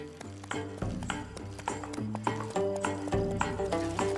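Steady clip-clop of horse hooves trotting in rhythm beneath bright, bouncy music, continuous and fairly loud throughout.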